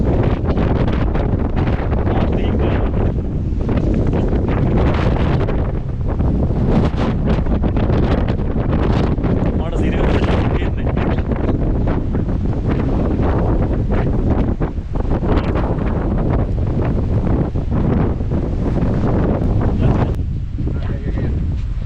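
Strong wind buffets the microphone at the Pitawala Pathana Mini World's End viewpoint above village paddy fields in Sri Lanka, a loud, steady roar of gusts that rumbles on without a break for the whole stretch.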